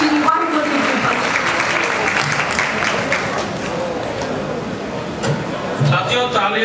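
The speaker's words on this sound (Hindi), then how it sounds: "साथियों तालियां जरा जोर से बजाया करो" Audience applause after a speech, a dense, steady clapping from a crowd that carries evenly throughout, with a voice emerging near the end.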